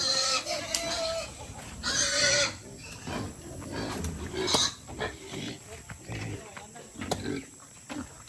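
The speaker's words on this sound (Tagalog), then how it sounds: "At ang ingay na ng mga baboy" Pigs squeal and grunt loudly in bursts on a rural farm, mixed with clucking fowl and a person talking nearby.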